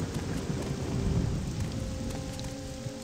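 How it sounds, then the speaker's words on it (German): Heavy rain hisses steadily with low rumbling thunder beneath it in a thunderstorm in the video game Morrowind, a dense, continuous downpour with no voices. "Mein Gott, ist das ein Unwetter hier."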